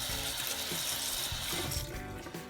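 Hot water runs from a tap over a doll's oily hair during washing with cheap shampoo, a fairly quiet, steady splashing stream that eases off slightly near the end.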